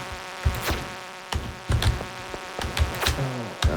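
Buzzing bee-like flying enemies in the Stardew Valley video game, heard as several short, loud insect-like buzzes in quick irregular bursts over a steady game backdrop.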